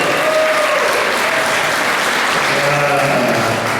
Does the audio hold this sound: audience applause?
yes